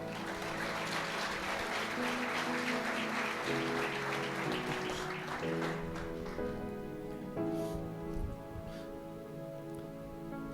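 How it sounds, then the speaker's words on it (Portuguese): A church congregation applauds during a Portuguese-language service, a steady patter of clapping running beneath sustained instrumental chords, moderately soft and continuous, thinning somewhat toward the end as the music becomes more prominent. "Você pode aplaudir o Senhor?"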